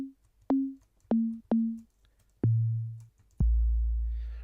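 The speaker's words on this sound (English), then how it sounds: "If I play you it sort of a couple of octaves up, it sounds like this." A Roland TR-808 bass sample raised a couple of octaves sounds as six short tonal hits, each a sharp click followed by a decaying pitched tone, the later ones deeper and longer with the last ringing out.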